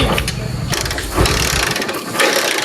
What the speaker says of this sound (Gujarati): બાઈક ચાલુ નહીં થતું ને